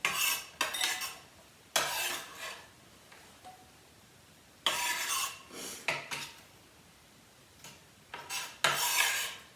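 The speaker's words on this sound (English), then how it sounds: "Let's clear the board of the rest of this onion." A utensil scrapes the last chopped onion off a cutting board into oil in a pan, with several loud rasping sweeps separated by short pauses and a faint sizzle beneath.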